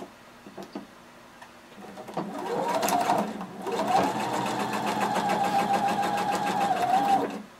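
A sewing machine runs a normal-length straight stitch along a 5/8-inch seam on jumpsuit fabric, a few clicks and a brief start before settling into a close, fast, even whirring rhythm that runs steadily to the end, with no voices.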